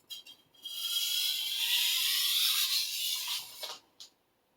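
A Minamoto sujihiki knife is deburred on a sharpening stone. A few short scrapes lead into one long, steady hissing stroke of steel across the stone, and it ends in a brief final scrape.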